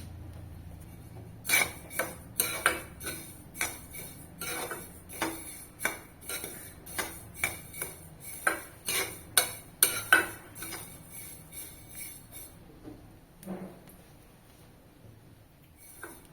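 Black sesame seeds roasting in a pan with cardamom and cinnamon, heard as sharp, irregular clinks and scrapes of a spoon against the pan over a faint hiss, with no talking.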